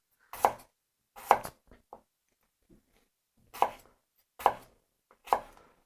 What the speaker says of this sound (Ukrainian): Ну, як бачите, картоплю нарізати взагалі без проблем.